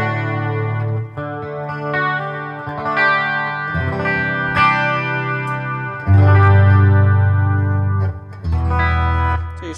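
A Les Paul-style electric guitar from 2017 by Chibson, played on the bridge pickup with a clean tone and a chorus-like shimmer, strumming chords with sustained, ringing notes and a few pauses, alone without talk.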